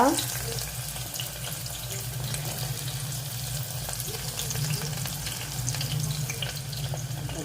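Onion and green chillies fry in oil inside a pressure cooker, giving a low, steady sizzle that stays fairly quiet and even throughout, with no voices.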